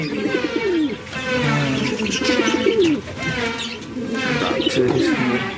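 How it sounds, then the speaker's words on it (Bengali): Male fancy pigeon cooing in a loft, repeated rolling coos in a steady rhythm, close and fairly loud, with other birds chirping faintly behind. "হেভি সুন্দর ডাকছে দেখো মেলটা"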